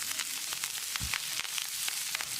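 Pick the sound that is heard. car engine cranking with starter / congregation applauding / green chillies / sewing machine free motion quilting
green chillies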